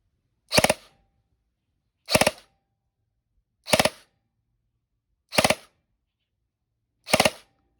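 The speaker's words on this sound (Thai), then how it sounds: "ขออนุญาตยิงใกล้ๆนิดนึงครับ" Five sharp, loud shots from a G&G CM16 Raider L2.0E airsoft rifle fired close by, evenly spaced about a second and a half apart, with silence between them.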